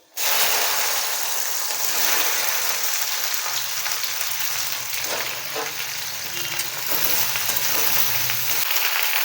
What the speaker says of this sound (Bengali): এরপরে আমি খুব ভালো করে ভেন্ডিগুলোকে ভেজে নেব।